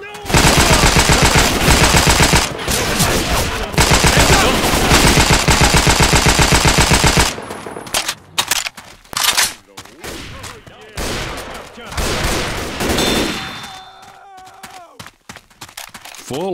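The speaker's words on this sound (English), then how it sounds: "Full auto shotgun." A full-auto shotgun in Left 4 Dead 2 fires a rapid, loud, continuous stream of blasts for several seconds, then breaks into sporadic shots and bursts amid other game sounds.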